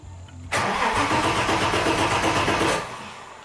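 An Audi engine cranks without starting: a sudden, steady, fast-chugging starter whir runs loud and close for a couple of seconds, then cuts off with no catch.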